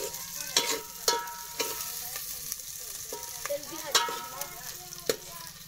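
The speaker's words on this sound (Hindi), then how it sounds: "ये अब मिक्स कर रहे हैं," Khichdi cooked by children is stirred in a frying pan with a little oil, a spoon scraping and clinking in repeated sharp strokes over a soft, steady sizzle, close and fairly quiet.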